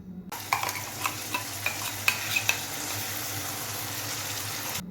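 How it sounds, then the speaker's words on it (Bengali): Onion and garlic paste frying in a pan for a Bengali boneless Lote fish jhuri, with a steady close sizzle and repeated sharp scraping clicks of a spatula stirring through the paste. "এই পেস্টটাকে ভালোভাবে কষিয়ে নিতে হবে।"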